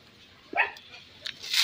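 A Shih Tzu puppy gives a few short, high yips close by, with soft rustling in between.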